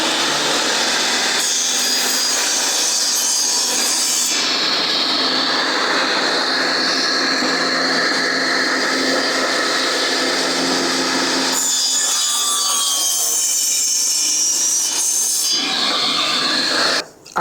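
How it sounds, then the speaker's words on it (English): A table saw with a miter slide crosscuts the ends of spalted oak boards: a loud, close, sustained whine of blade through wood that shifts in pitch and load over several passes, then cuts off abruptly. "I'm just using the miter slide here on my table saw, and I'm just going to nick off the ends of each piece"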